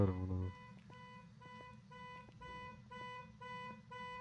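Car alarm in the video game Phasmophobia, a loud burst at the start and then a repeating electronic beeping pattern that keeps cycling steadily at moderate volume.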